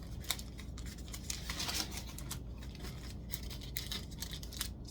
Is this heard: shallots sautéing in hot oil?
no